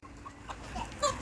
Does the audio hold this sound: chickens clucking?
yes